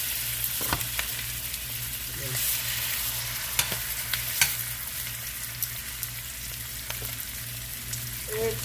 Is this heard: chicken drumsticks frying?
yes